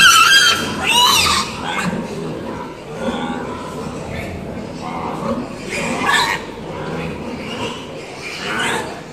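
Newly separated piglets on a pig farm squeal shrilly and repeatedly while being moved into a pen, in loud bursts over busy barn noise.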